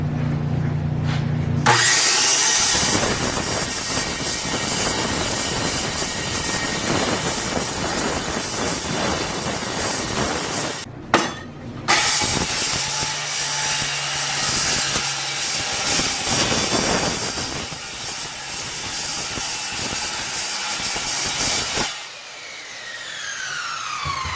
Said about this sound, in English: This is about all you can do with a circular saw.